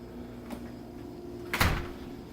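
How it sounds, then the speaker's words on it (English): A kitchen door leading to a three-car garage opens with a soft click followed by a louder thump, close and alone in a quiet room. "So this door off of the kitchen goes to your garage."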